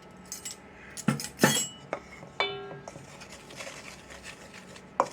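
Spoon clinks and scrapes against a bowl as flour, salt and buttermilk are mixed for quick buttermilk biscuits, a few sharp taps and short stirring rattles spaced out over quiet.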